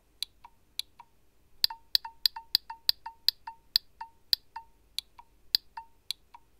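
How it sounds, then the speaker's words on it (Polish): Reed relays inside a K3418 photo-pulse unit, an elevator floor-position device, clicking sharply in an irregular run of about two dozen dry ticks, close and clear against near silence. "To jest dźwięk kontaktronów, które znajdują się w środku."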